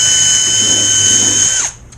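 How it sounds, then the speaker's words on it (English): A power drill bores a hole for bracket hardware during a ZippKits Vbox cracker box build, giving a loud, steady high whine close by before the motor winds down and stops. "I drill my first hole"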